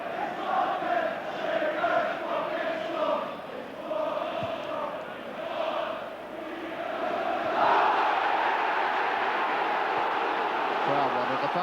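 A large football crowd at a Sunderland versus Newcastle United Premiership match roars in appeal for a foul, a dense sustained noise that swells louder toward the end, with a commentator's voice running beneath.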